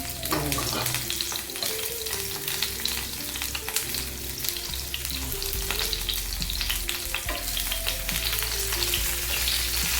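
Brinjal sautéing in hot oil for ennai kathirikai kuzhambu: a loud, dense, unbroken sizzle that crackles steadily from start to finish at close range, with no voices.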